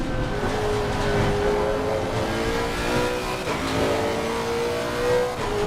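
Race car engine at full throttle in Assetto Corsa Competizione, a loud steady high-revving drone held flat out with no lifting, slight pitch wavering as the car runs wide.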